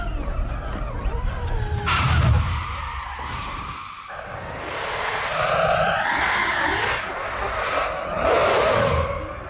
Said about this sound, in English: This really does sound like a grown up, big, enormous, obviously very powerful RC car.